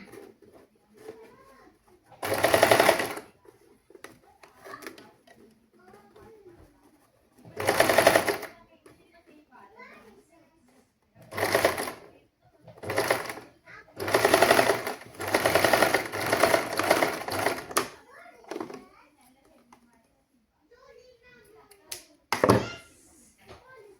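A sewing machine stitches the neckline of a frock in several loud bursts of rapid whirring, separated by pauses filled with someone talking and birds cooing in the background.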